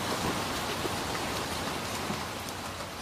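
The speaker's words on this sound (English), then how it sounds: "I'm just trying to get out this rain first." Steady rain falling in the Little Nightmares 2 video game, a dense even hiss of drops on surfaces holding at a constant level with no gaps.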